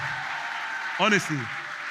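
Scattered clapping from a comedy show audience hisses steadily underneath, while a voice briefly calls out over it partway through.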